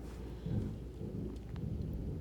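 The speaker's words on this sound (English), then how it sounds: "Oh my God, the thunder is crazy." Low rumbling thunder rolls through a Houston summer thunderstorm, with rain pattering steadily throughout; faint and distant-sounding, with no voices.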